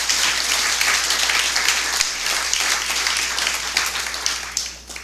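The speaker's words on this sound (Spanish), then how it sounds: "Denle fuerte aplauso al Padre" A church congregation applauds the priest, a loud, dense wash of clapping that holds steady for several seconds and begins to thin out at the very end.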